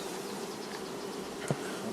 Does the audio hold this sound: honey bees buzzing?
yes